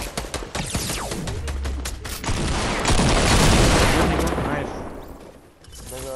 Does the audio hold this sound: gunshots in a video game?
yes